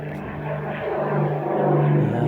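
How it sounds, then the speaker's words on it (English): Propeller airplane flying low overhead, a droning engine hum that grows steadily louder over a couple of seconds, heard outdoors with no talk. "Plane."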